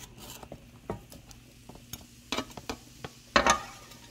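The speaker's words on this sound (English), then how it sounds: "We're gonna first and foremost put some oil in our pot, and we're just gonna put in all our aromatics." Aromatics go into hot oil in a cooking pot, giving a faint sizzle broken by scattered clinks and scrapes of stirring. A louder clatter comes near the end.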